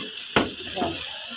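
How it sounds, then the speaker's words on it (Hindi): Spoon stirring chicken karahi masala in a hot pan, giving a sharp scrape followed by a steady sizzle, close and moderately loud, no voices. "इसको मैं अच्छे तरीके से हिलाती हूँ"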